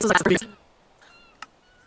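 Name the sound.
cat meowing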